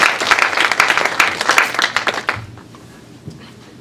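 A conference panel audience claps for the speakers in a dense burst of applause that fades out after a couple of seconds, leaving a quiet room.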